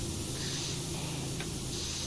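A pressure washer sprays in PowerWash Simulator while a Ferris wheel is being cleaned, making a steady, unbroken hiss that fills the whole stretch at an even level.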